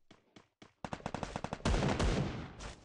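Gunfire in the video game Free Fire comes as a few isolated shots, then a rapid burst of loud, sharp rounds and a dense sustained volley near the end.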